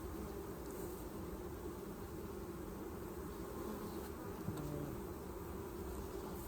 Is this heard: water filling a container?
no